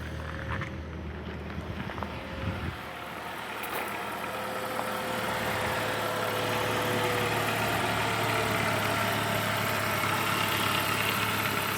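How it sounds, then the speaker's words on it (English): A 2004 Saab 9-5 Vector idling with a cold engine, a steady mid-pitched hum with faint belt noise and slight upper timing-chain guide rattle, recorded close with no talking. "Slight noise from the belts and slight noise from the upper chain guide, which is common."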